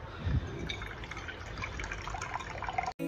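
Water being poured for drinking, a faint soft trickle and splash with a brief louder gurgle near the start, quiet and close.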